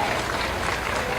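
Applause from a crowd at a public government event, dense and loud, filling the whole short stretch without a break.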